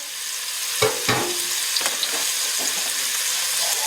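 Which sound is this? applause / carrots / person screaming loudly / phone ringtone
carrots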